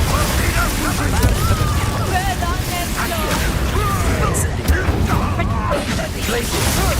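The Confringo fire spell bursts in Hogwarts Legacy amid dense, continuous combat noise, rumbling blasts and crackling effects mixed with game voices throughout.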